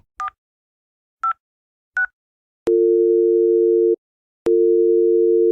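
Three short dial beeps are followed by two long, steady telephone tones separated by a brief gap.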